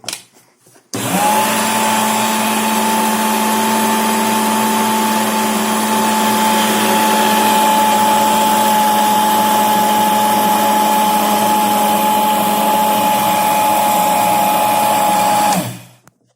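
A Biolomix blender fitted with its dry jar grinds rice into flour, a loud steady motor whine with harsh grinding that starts abruptly, holds for about fifteen seconds and then cuts off.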